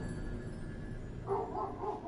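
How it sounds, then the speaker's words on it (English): Dogs barking in Dark Souls 2, a few short faint barks near the end, over a low game ambience. "Oh, the dogs are barking at somebody."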